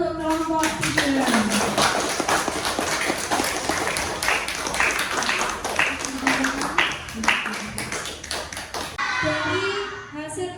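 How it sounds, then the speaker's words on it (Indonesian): A primary-school class claps for a group of classmates, with many hands joined in scattered, fast applause lasting several seconds, while a teacher's voice carries over it. "beri tepuk tangan untuk kelompok 3."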